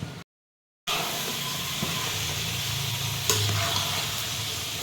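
Rice being stirred into a pot of chicken biryani makes a steady close scraping and sizzling with watery churning, a brief silence at the start, then continuous stirring with a louder knock near the end.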